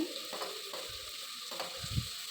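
Fresh cauliflower and shelled green peas are sautéed in a pan for vegetable pulao, with a soft, steady sizzle and a few quiet scraping stirs, no voices.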